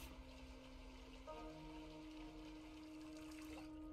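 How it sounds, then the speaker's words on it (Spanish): Water running from a tap into a pot in the Project Zomboid video game, a steady close trickle and pour with a faint tonal hum underneath, continuous throughout. "voy a llenar la olla otra vez de agua"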